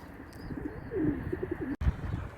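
A tumbler pigeon gives a short run of soft, low coos outdoors, fairly close, with a brief gap near the end and no talk.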